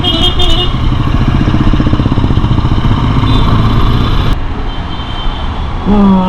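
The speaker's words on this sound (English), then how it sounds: "This bike doesn't feel like a Royal Enfield." A Royal Enfield Interceptor 650 motorcycle engine runs steadily and loud through city traffic in Kolkata, a continuous rumbling drone with surrounding road noise, easing off near the end.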